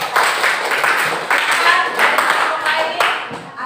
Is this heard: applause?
yes